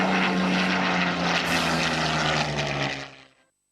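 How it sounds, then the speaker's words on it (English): A WWII Spitfire or Hurricane fighter with a Merlin engine roars loudly overhead, a strong propeller drone that stays full and close before cutting away abruptly near the end, with no voices. "all of the Spitfires and Hurricanes were powered by Merlin engines"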